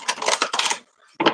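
A tarot card deck being shuffled during a psychic reading, a close run of rapid papery riffling and flicking bursts, a short pause, then one more brief burst of shuffling.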